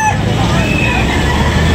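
Chickens at a poultry market in Batangas, Philippines, including a young gamecock stag, make a busy fowl chorus of clucks and crows under steady crowd noise, with voices of nearby people mixed in.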